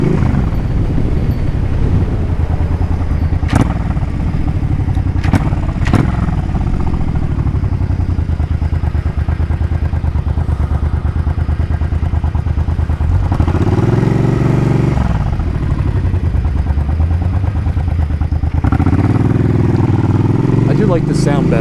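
A Suzuki Boulevard C50T cruiser motorcycle engine runs loud and close in a steady drone throughout, with a couple of sharp clicks early and two swells of rising revs later on.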